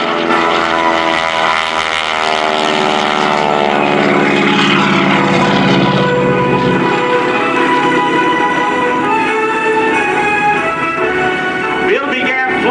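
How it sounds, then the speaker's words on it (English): A T-6 Texan propeller airplane roars through a roll-on takeoff at the 2018 NAS Oceana Airshow, its radial engine droning loud and steady with rising pitch, close by and dominant throughout. "Listen to the sound of the engine as he does the roll-on takeoff."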